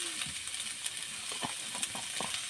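Mixed vegetables dusted with turmeric and cumin powder are stirred in a pan, a faint steady sizzle with soft scraping strokes of a spatula, close and quiet with no voices.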